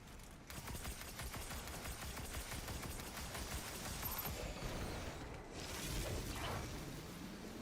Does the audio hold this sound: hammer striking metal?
no